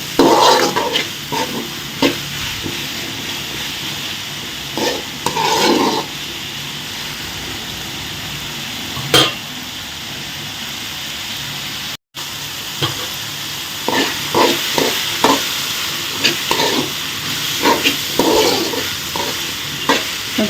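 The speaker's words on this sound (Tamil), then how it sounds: "இந்த எண்ணெயில் நல்லா காய வதக்குவாங்க." Chopped chayote (chow chow) pieces frying in oil for a curry as they are stirred: a continuous close sizzle with repeated scraping bursts of the spoon, with a brief cut in the sound partway through.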